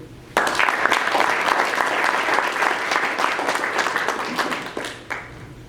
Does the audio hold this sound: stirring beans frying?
no